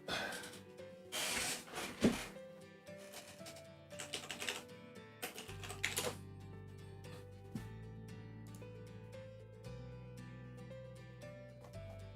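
Computer keyboard typing, bursts of clicky keystrokes at an uneven pace, followed by a sustained low tone, quiet and close with no voices.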